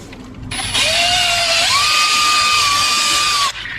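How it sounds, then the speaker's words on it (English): A power buffer with a padded buffing pad polishes an aluminum fork tube to a chrome shine, giving a steady, loud whirring whine that rises in pitch partway through and runs for several seconds before cutting off. "Now we're going to finish it off with the buffing pad, with a buffing pad protector over it."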